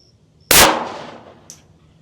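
A single loud .380 pistol shot strikes the glass panel of a prison door: a sharp, close crack with a ringing decay, followed a second later by a brief, faint high clink.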